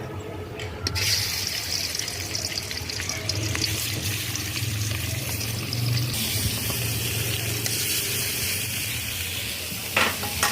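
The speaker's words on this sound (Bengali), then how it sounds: "এরপরে একটু মাছ ভাজার জন্য তেল দিয়ে দিলাম" Oil heating in a large wok for frying rohu fish for a curry, giving a steady, moderately loud sizzle with low bubbling throughout and a few brief clatters near the end.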